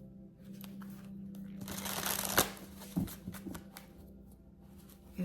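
Yoga oracle cards being shuffled by hand, a quick riffling burst of crisp papery flutters followed by a few soft taps and slides of the deck, close and fairly quiet.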